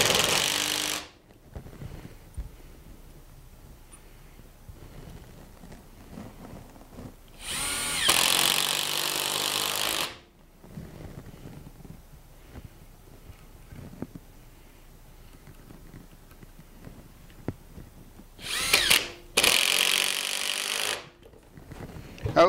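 A power drill drives a wood screw into a wooden faceplate for mounting a woodturning blank, three loud, steady whirring bursts of a few seconds each, separated by quieter stretches of handling noise.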